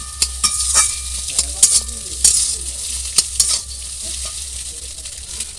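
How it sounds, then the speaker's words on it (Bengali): Spices and a fish-cake mixture are stirred and fried in a hot pan, with a soft sizzle under scraping and clinking of a spatula against metal, close and busy. "এবার এগুলোকে ভালো করে একটু কষিয়ে নেব।"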